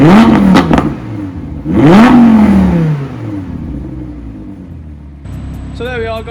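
Audi R8 V10 Plus engine blipped twice in quick, loud revs that rise sharply and fall away, then settling into a rough idle rumble, with a brief whine near the end.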